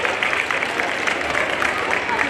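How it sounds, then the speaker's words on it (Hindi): Steady applause from an indoor audience at a community award ceremony honouring a Class 12 topper, a continuous dense clapping wash holding at an even level throughout. "तालियां बजती रहनी चाहिए।"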